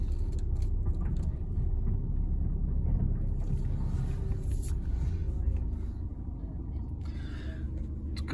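A 2015 Skoda Superb TDI SE-L Executive with DSG gearbox reversing, its diesel engine a steady low rumble heard close from inside, with a slight drop in level near the end.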